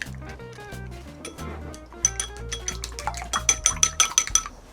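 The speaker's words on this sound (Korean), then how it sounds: "계란은 2개 풀어서" Two eggs beaten in a bowl, heard as quick clinks and stirring taps of a utensil against the dish that grow busier and louder toward the end, with background music underneath.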